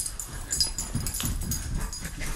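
A blind husky whines and whimpers for dinner, a close, steady run of soft, nasal cries with no talking.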